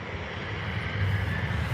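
Jet engines of a Jet2 airliner at Birmingham Airport, a steady broadband roar with a low rumble, moderately distant and continuous, with no talk over it.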